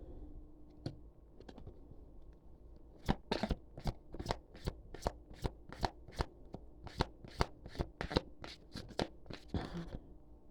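Stiff, large tarot cards shuffled by hand in a rapid run of sharp riffling snaps, preceded by a few scattered taps, close and clear with no talking.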